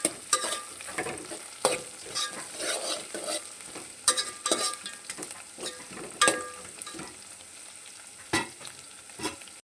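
Ingredients for okra stew, including coriander stems, sizzle in a pan while a spoon stirs them, giving steady frying hiss with repeated scraping strokes and no voices.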